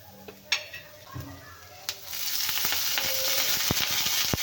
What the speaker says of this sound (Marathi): तर इथे मी मीडियम साईजचे दोन कांदे घेतलेले आहेत आता हे पण छान आपल्याला तेला गोल्डन होईपर्यंत भाजून घ्यायचे आहेत